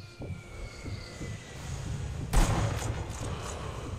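A single sharp gunshot from a sniper rifle in Sniper Elite V2 cracks out loudly midway, followed by a few fainter shots and rumbling under a low, steady background hum.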